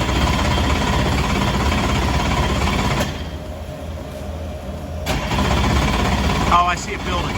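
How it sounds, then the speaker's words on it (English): Corvette stock car race engine cranks and fires up, a loud, rough, throbbing roar that dips briefly mid-way before surging back, heard close with people talking underneath. "Another car in Frank's collection was this Corvette stock car, which he fired up for us."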